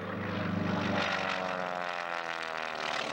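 A propeller-driven Granville brothers-designed aerobatic airplane makes an inverted edge pass at a 1997 airshow at Frederick Municipal Airport, Maryland. Its engine gives a steady, rough, loud drone as it passes, with no talk over it.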